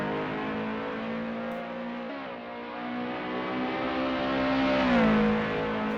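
Lotus Exige, a standard 240-horsepower production car in Assetto Corsa, its engine droning steadily with a gear change and rising revs, loud and close throughout.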